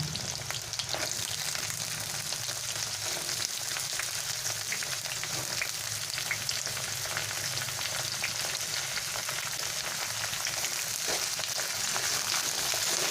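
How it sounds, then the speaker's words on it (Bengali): Potatoes and pointed gourd fry in oil, giving an even, continuous hiss with faint crackles and occasional stirring, steady and fairly quiet with no voices. "আলুটা অল্প ভাজা হয়ে গেছে এবারে আমি পটলগুলো দিয়ে দেব"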